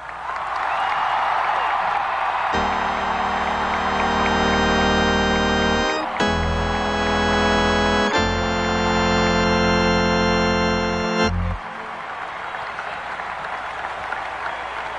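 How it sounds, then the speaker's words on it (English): Arena crowd at a Pittsburgh Penguins 1992 Stanley Cup celebration cheering and applauding, a steady wash of clapping beneath loud sustained organ-like chords that swell and stop. "I'd like everyone to give a great cheer for Martha Johnson"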